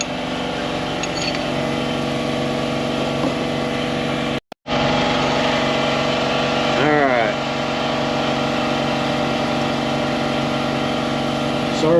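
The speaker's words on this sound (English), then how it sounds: "Sorry for the air compressor noise" An air compressor runs steadily under a semi truck during an inboard drum brake job, a constant mechanical drone with a brief dropout midway and a short voice-like sound over it.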